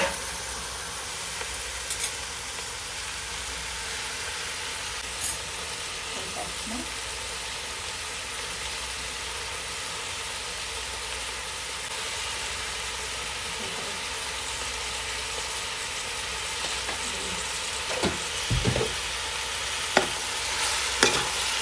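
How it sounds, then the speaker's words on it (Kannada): Chicken pieces fry and get stirred with onions in a pan, a steady broadband sizzle running throughout with occasional scraping clicks from the spoon, close and moderately loud, no talking. "ಈಗ ನಾವೀಗ ಚಿಕನ್ ಹಾಕ್ತಾ ಇದ್ದೀವಿ."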